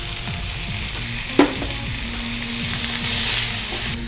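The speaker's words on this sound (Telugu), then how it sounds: "ఇలా మనం బాయిల్ చేసి పెట్టుకున్న వెజిటేబుల్స్ వేసేసుకుందాం." Boiled vegetables go into chicken kurma cooking in a pan over a continuous loud sizzle. A single clattering hit marks the drop, and scraping stir sounds follow.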